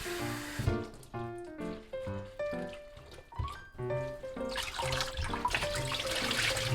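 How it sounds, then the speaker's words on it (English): Running water splashes and trickles as cut cabbage is rinsed under a tap, growing steadier and louder toward the end, with faint music behind. "After cutting the cabbage, please wash it with water."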